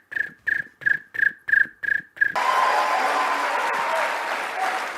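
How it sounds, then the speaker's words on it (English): A CPAC audience breaks into sustained applause and cheering after a string of short, rhythmic bursts of sound. The clapping fills the room loudly and evenly to the end. "they'll applaud for the party of President Trump thing"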